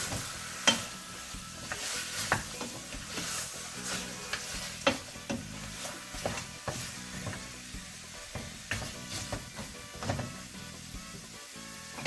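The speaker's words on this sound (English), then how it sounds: "I will cover it, stirring occasionally until it starts to fry." Jamaican oxtail fries in a pot, a steady sizzle broken by frequent scraping stirs and clinks of a utensil against the pot, close and continuous.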